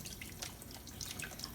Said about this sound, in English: Little trickle of cold water.